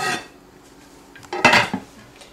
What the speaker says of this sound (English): And put the lid on.